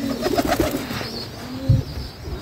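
Pigeons on a pigeon farm give soft, throaty coos in a quick run, close by, over a low background hum, followed by a deeper coo near the end.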